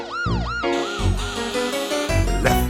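Loud wailing siren effect from a fire engine in a Halloween song, sweeping up and down repeatedly over music with a low pulsing beat, close and prominent throughout.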